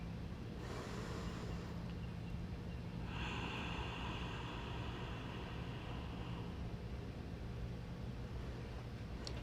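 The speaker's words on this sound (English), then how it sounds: "Breathing with sound, checking in." Audible ujjayi-style breathing during a vinyasa yoga flow, slow, soft hissing inhales and exhales, faint and close against a quiet room hum, with no talk.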